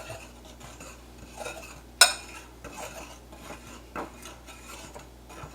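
Dry ingredients with cinnamon being mixed in a bowl for a rhubarb sour cream coffee cake, heard as soft scraping and clinking of a utensil against the bowl, with one sharper clink near the middle and light rubbing strokes throughout.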